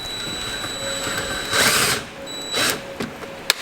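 A power drill drives new self-tapping screws through a CS splitter into the bumper of an M2, giving two short close whirring bursts with a sharp click near the end.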